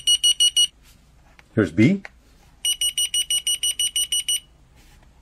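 Key finder receivers beep in bursts of rapid, shrill, evenly spaced electronic tones when transmitter buttons are pressed: a short burst, a spoken phrase, then a longer series of about ten beeps.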